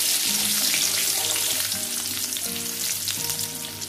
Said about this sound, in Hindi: इसी तेल में मैं यहाँ 1/2 टीस्पून कलौंजी डाल रही हूँ, 4 हरी मिर्च डाल रही हूँ